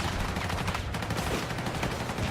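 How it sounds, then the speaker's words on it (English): Tank cannon fire and gunfire thud through a Battlefield 6 game battle, a dense continuous barrage of loud booms and rattling shots with no pause. "I love the loud thumps when the tanks shoot fire. You hear a loud thumping sound."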